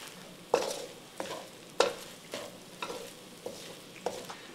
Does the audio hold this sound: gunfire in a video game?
no